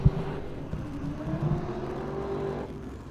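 A BMW E30 drift car on a track, its engine droning steadily with a rising tone and tire noise, loud and close throughout, then easing off near the end.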